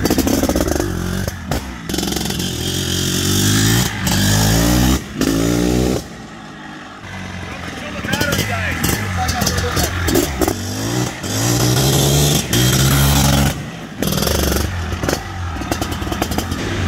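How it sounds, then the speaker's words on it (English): A 2023 Maico 700 single-cylinder two-stroke motorcycle revs hard and close, its raspy engine note climbing and dropping in repeated bursts with brief cut-offs, ending in a loud crackling run. "Absolutely the most torquey single cylinder two stroke I've ever ridden."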